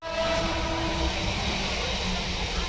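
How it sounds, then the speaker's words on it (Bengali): Kolkata commuter train heading toward Sealdah, a steady rumbling roll with a drawn-out horn tone near the start, heard from inside the carriage. "বন্ধুরা আমি ট্রেনে উঠে পড়েছি"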